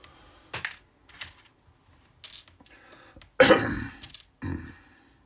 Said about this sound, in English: Sorry for the coughing and that.